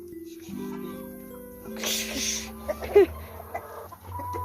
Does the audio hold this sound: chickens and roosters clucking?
yes